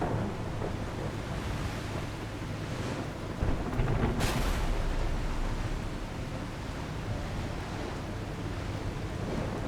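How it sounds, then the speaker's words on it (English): A thunderstorm rages in The Last Caretaker, a steady roar of wind and rain with a sharp crack of thunder near the middle, then the rumble and wash carrying on. "It's hard to see in the storm."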